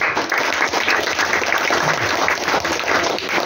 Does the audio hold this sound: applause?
yes